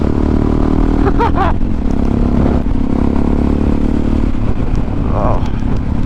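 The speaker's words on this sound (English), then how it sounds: "oh, more bikes! More bike, I should say." Motorcycles pass along the road, heard from a rider's helmet under constant loud wind and engine roar, with brief rising and fading engine whines cutting through the buffeting.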